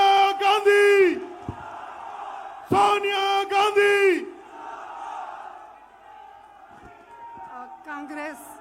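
A political rally crowd in Jaipur shouts and cheers for Sonia Gandhi in two loud bursts, mixed with an amplified, echoing voice over a public address system, followed by quieter crowd noise.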